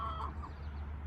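Hens cluck softly in a backyard flock, a few faint short calls over a low steady background hum.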